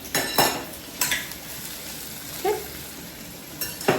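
Okra frying in oil with garlic in a pan, stirred with a metal spoon: a steady soft sizzle broken by several sharp utensil scrapes and clanks against the pan, close up, with no talking.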